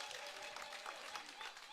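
Party members at a political rally applaud, a brief, faint stretch of steady crowd clapping heard from a distance.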